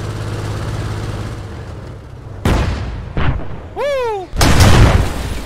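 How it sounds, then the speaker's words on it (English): A gunner's cannon fires in a military video game, two heavy booming blasts close and loud with rumbling tails, followed by a rising whistling tone and another big explosive burst, with a voice cheering briefly. "At least the gunner decided to shoot. Looks like he took out a few guys with that blast."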